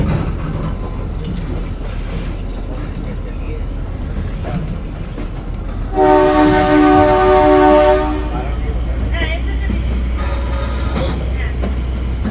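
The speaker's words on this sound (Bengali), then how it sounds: "ট্রেন কিন্তু আমাদের ছেড়ে দিল একদম নির্দিষ্ট সময় 5:45 কালকা" Shivalik Express leaving Kalka for Shimla, a steady rumble of rolling carriages with a loud two-second horn blast midway and a shorter toot after, heard from on board.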